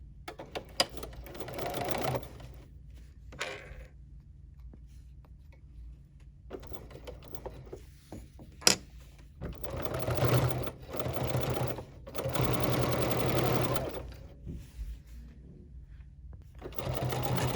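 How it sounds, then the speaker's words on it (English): A Bernina sewing machine fitted with a binder attachment stitches in several close, loud bursts of rapid mechanical whirring, separated by short pauses and soft handling noises. "So now I'm going to stitch."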